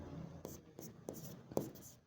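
Pen strokes scratch on paper while accounting entries are written, four or five short, quiet scratches spaced about every third of a second, close and with no talk.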